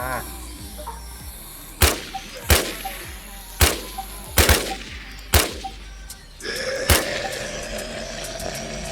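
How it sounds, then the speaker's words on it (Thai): Gunfire from the WarZ video game: several sharp, separate shots spaced about a second apart over a steady background hum, loud and close. "ยิงไม่โดนได้ไงเนี่ย ต้องเปลี่ยนปืน"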